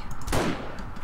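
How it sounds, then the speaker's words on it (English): Gunfire in the zombie survival game 7 Days To Die: a single sharp shot bursts out near the start of a short stretch, then fades into low background noise, with no talk. "Bobby, I'm missing all my shots."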